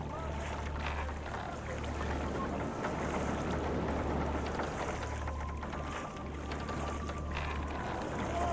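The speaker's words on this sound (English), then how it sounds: "Take this boat." A boat moves across the water in the video game Assassin's Creed II, giving a soft continuous wash of water and low engine-like hum under faint wind, with no speech.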